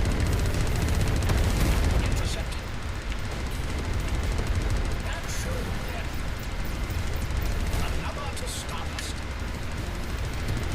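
Heavy cannon fire from a siege cannon in the space combat game Everspace 2, a loud sustained barrage of booming blasts and rumble that swells in the first two seconds and then rolls on without pause.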